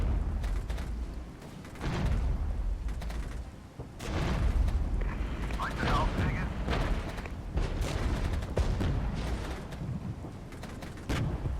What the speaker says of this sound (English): I'm going to drop an artillery strike on them